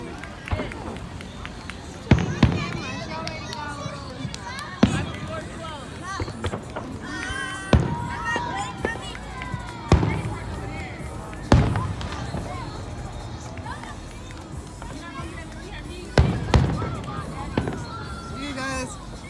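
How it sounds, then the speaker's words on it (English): A fireworks show goes off outdoors near railway tracks, sharp cracking bursts popping every few seconds with some close and loud, while excited voices talk and shout throughout. "You guys, we got fireworks"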